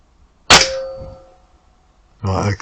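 A single sharp shot fired at a bullseye target cracks out close by, its ring decaying over about a second, followed after a pause by a brief burst of louder noise.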